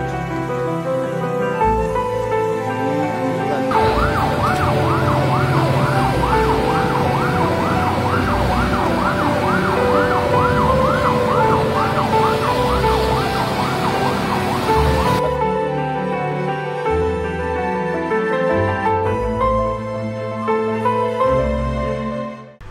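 Ambulance siren wailing continuously, loud and close, over music during a flood in Pontianak, where a tronton truck carried the ambulance and its patient through the water.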